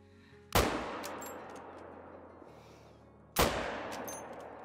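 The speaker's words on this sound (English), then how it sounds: "Two shots with the Solokin." Two sharp rifle shots from a Solokin in a hunting video game set in the Te Awaroa New Zealand reserve, spaced about three seconds apart, each a loud crack fading into a lingering outdoor echo, with no talking.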